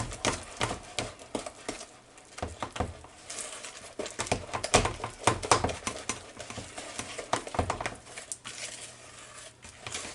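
A spoon stirs walnut brownie batter, knocking against the bowl in irregular bursts, soft scraping and clinking at close range, with no talking.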